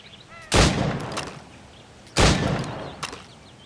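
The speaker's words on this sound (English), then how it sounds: "Go on. Shoot these targets." Two loud, sharp gunshots fired at stationary targets in Assassin's Creed Rogue, well spaced with a long decaying tail after each, then a fainter click near the end.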